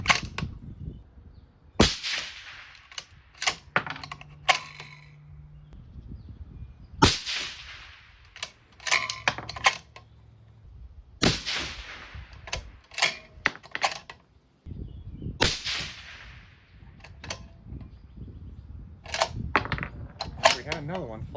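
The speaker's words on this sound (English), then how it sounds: "I just shot some 142 MatchKings out of this gun" A 6.5 PRC rifle fires 142-grain Sierra MatchKing bullets at an outdoor range, with several sharp, loud reports spaced seconds apart, each trailing off in a short echo, between quieter handling clicks.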